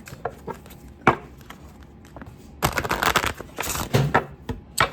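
Tarot cards being shuffled by hand: a few soft riffles and taps early on, then a denser burst of crisp card-on-card flicking and slapping in the second half, close and fairly quiet with no talking.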